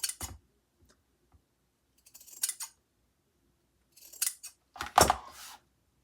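Scissors snip through fabric close to the seam of a bandana tote bag, several short crisp cuts in separated bursts with quiet gaps between them.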